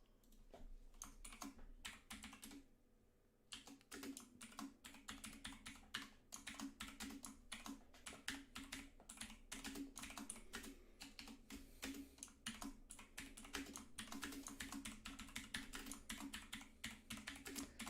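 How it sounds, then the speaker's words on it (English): Loud mechanical computer keyboard typing in rapid, continuous bursts of sharp clacks with a brief pause near the start, heard up close with no talking. "Loudest keyboard in the business."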